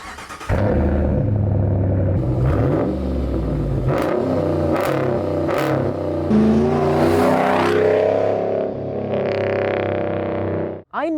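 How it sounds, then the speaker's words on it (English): A Ram 1500 pickup truck with a muffler delete pipe revs its engine. The exhaust gives a loud, deep, close rumble that swells and settles in sustained roars, with no talking. "I just put a muffler delete pipe on my Ram 1500. It sounds freaking awesome."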